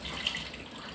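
Tap water runs steadily into a sink as food is washed at home while lunch is being cooked, a soft continuous hiss and splash heard alone at low volume.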